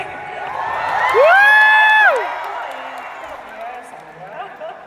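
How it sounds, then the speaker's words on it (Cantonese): An audience at a concert thank-you event in Hong Kong cheers and applauds, a swelling crowd roar with a loud sustained whoop rising in the middle, then fading into scattered claps and murmurs. "俾啲掌聲。"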